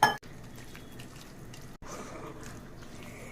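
Water trickles steadily into a jaggery and rice flour batter being thinned, a soft continuous close pouring with a small knock at the start and a brief break midway.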